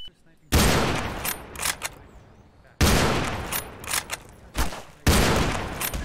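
Minigun fire in the Garry's Mod video game: three long, loud bursts of continuous rapid firing separated by brief pauses, close and dominant, with shouting voices mixed in.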